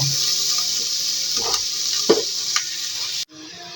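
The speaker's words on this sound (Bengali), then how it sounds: "পেঁয়াজ দিয়ে আমি একবারে লাল লাল করে ভেজে নিব" Onions frying in a pan for a papaya and egg curry, a steady bright sizzle with a few stirring scrapes, close and alone, ending abruptly.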